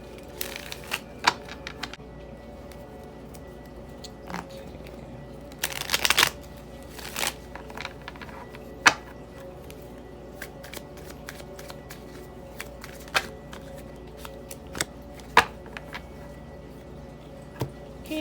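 Tarot cards shuffled and drawn during a pick-a-card reading, with scattered crisp riffles and slaps, a dense burst of shuffling midway, and sporadic single card flicks close to the listener.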